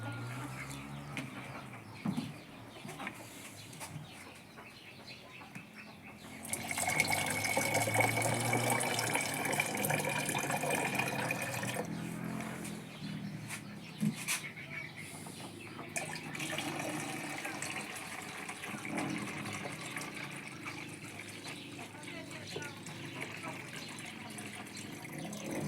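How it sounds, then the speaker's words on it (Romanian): About a litre of chlorine-free well water poured into a bottle, a steady rushing trickle that swells partway through and continues for a long stretch, with faint birds and a rooster in the background. "Acum vom pune 1 litru de apă. Apa este de la fântână, este apă fără clor."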